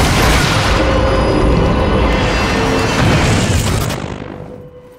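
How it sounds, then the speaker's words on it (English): Heavy gunfire in the Quantum Break shooter, a dense, loud barrage of shots and booming impacts that roars continuously for several seconds before tapering off near the end. "run in here, shoot everybody the fuck up"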